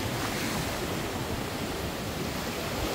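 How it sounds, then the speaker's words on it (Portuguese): Sea waves at high tide break against a wall in Recife as a steady, loud roar of surf and wash, mixed with wind buffeting the microphone, with no voices. "a maré alta, ela bate naquele muro ali"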